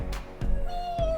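A cat meows several times in short calls, close and fairly loud, with no talk over it.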